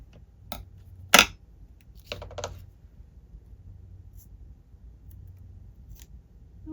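Scissors cut through card paper for a handmade 3D greeting card, giving a few sharp, separate snips near the start and then fainter, scattered clicks in a quiet room.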